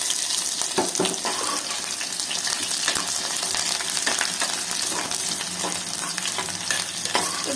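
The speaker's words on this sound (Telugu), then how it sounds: "కొంచెం ఎర్రగా వచ్చేంత వరకు వేయించుకుందాం." Onion fries in a pan for mutton curry with a continuous crackling sizzle and occasional stirring scrapes. The sound is loud, close and steady throughout, with no talking.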